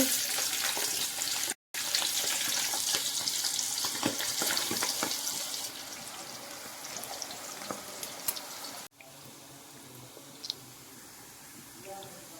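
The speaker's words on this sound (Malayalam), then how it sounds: "ഇപ്പോൾ ഒരു ട്രിപ്പ് വറുത്ത് കഴിഞ്ഞു ഇനി അടുത്ത ട്രിപ്പ് ഇടാൻ പോവുകയാണ്" Jackfruit chips fry in hot oil at home, a dense steady sizzle with a brief cut near the start; it quiets after a sharp break about two-thirds through, then continues softer.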